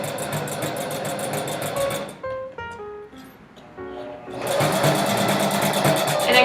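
A sewing machine back-stitches the finishing seam of an infinity scarf: fast, close mechanical stitching that breaks off into a pause filled with light clicks and taps, then whirs back to full speed.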